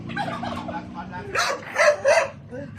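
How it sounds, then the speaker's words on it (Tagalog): Several loud, rapid gobbling bursts from a turkey nearby, with other birds and faint murmuring in the background. "Damo pa yung pabo tayo."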